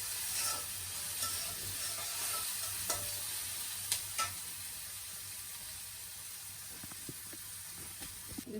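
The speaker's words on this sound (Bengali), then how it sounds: "লবণটা দিয়ে দিলাম যে পেঁয়াজটা তাড়াতাড়ি ভাজা হয়ে যায়" Onions fry with salt in hot oil, a constant sizzling hiss punctuated by regular clicks and scrapes of a stirring spoon, heard up close with no talking.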